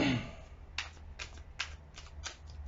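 Tarot cards are shuffled in several quick riffling bursts, about six close, crisp ruffles at a steady pace in a quiet room.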